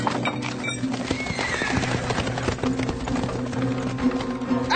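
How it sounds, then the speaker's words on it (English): Horses pulling a wagon in an old radio drama, steady clip-clop of hooves with rattling and creaking wheels, dense and continuous at close range with a brief whinny-like sound early on, no talk. "Get away from my horses!"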